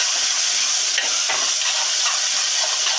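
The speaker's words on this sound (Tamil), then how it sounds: "நல்லா கிளறி விட்டுருங்க, நல்லா மசிச்சு விட்டுருங்க." Softened tomato masala, cooked until the oil separates for a goat trotter kuzhambu, is stirred and mashed in a pan, making a loud, steady hiss and sizzle with scraping in the foreground.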